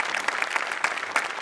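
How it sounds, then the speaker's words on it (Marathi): A studio audience on a Marathi comedy show, Maharashtrachi Hasyajatra, claps in dense, steady applause with periodic louder swells, close and continuous without speech. "तुझ्या तल्लख मेंदूसाठी आज टाळ्या."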